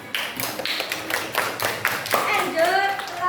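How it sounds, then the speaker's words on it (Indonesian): A classroom group of students claps for one team, a brief burst of scattered applause, with voices chattering over and after it. "tepuk tangan buat kelompok 2"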